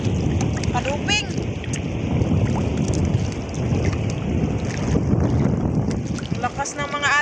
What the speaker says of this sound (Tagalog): Lakas ng mga alon mga sisters. Yung maingay alon po yun. Hindi yun hangin.